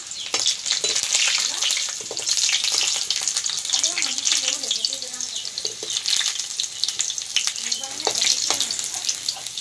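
Garlic and chillies fry in hot oil, a loud continuous sizzle with crackling bursts and occasional stirring scrapes, joined by a faint voice in the middle.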